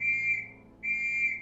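Two sharp, shrill whistle blasts, each about half a second long, separated by a brief pause, loud and close.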